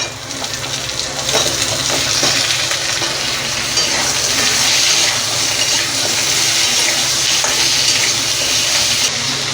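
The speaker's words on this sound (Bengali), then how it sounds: "এবার আমি মূলোটা আর আলুটা আগে দেব দিয়ে একটু ভেজে নেব" Radish and potato pieces frying in oil in a pan, a steady, close sizzle with soft stirring and scraping running throughout, no talk.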